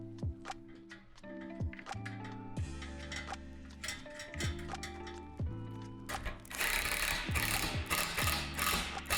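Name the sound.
tightening nuts on a shed truss rod assembly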